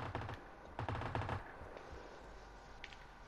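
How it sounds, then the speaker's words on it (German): Gunfire in the PUBG video game, two quick bursts of rapid automatic shots early on, then faint scattered shots, fairly quiet and heard alone. "Hier wird geschossen."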